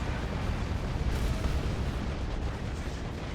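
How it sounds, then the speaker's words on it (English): Manticore rocket strike explosions boom in the Dawn of War 2 strategy game, a dense rumbling barrage of overlapping blasts that stays loud and continuous without pauses. "There's the Manticore strike."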